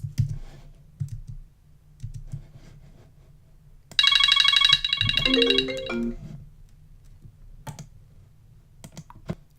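A phone ringtone chimes loudly for about two seconds in a quiet room, a bright repeating electronic melody that drops to a lower tone before stopping, with scattered keyboard clicks and typing before and after.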